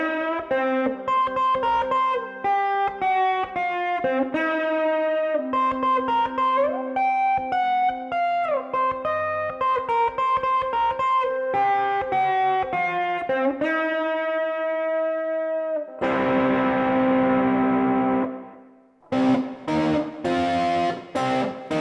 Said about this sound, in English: Little bit of auto wah, little bit of overdrive distortion this time.